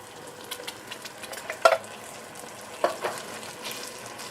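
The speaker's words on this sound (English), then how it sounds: "I'm going to add in my can of tomato sauce." A 15-ounce can of tomato sauce poured into a hot, sizzling pot and stirred, giving a soft continuous sizzle broken by a couple of sharper clunks and scrapes, with no talking.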